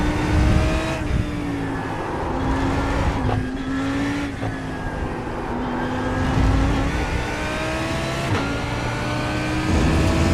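A Lamborghini Super Trofeo race car runs through a corner on track, its engine loud and close with steady revs that dip briefly on downshifts before climbing again, heard alone without talk.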